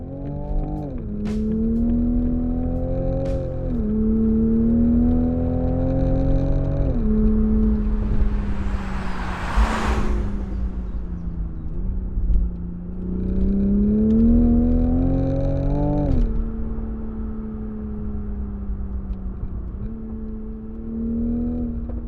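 A 2020 Toyota Supra's BMW-built single-turbo engine drones steadily and climbs through the revs in long pulls, with a brief whooshing burst midway, loud and close.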